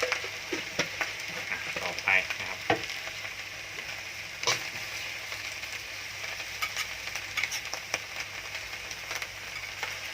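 Chiang Da greens stir-fry with egg and oyster sauce in a pan, a close continuous sizzle broken by sharp scraping and tossing strokes of the spatula, no voices.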